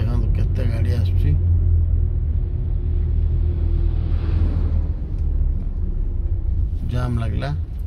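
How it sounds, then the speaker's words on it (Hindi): Continuous low rumble of vehicles moving along a forest ghat road during a traffic jam, steady and fairly close, with a person talking over it near the start and again near the end. "देखो केते गाड़ी आसुची"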